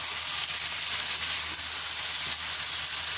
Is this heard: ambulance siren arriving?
no